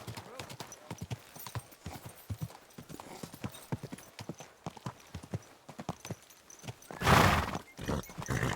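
In the medieval video game Kingdom Come: Deliverance II, a horse's hooves clip-clop in a steady run close by, and the horse then gives a loud whinny near the end while a voice speaks over it.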